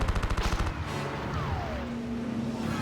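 Shots fired at the player in Star Wars Battlefront 2, a quick burst of rhythmic blasts at the start, then rumbling engine noise and a descending whine.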